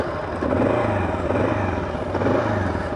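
A KLR 650 motorcycle engine runs after being restarted from a stall, a steady mid-pitched thumping hum with slight swells, close and alone.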